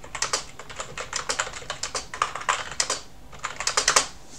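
Rapid, uneven typing on a French computer keyboard, crisp close key clicks coming in bursts with short pauses, no voices.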